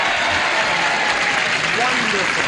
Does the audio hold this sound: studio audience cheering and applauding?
yes